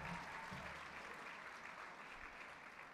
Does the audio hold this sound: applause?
yes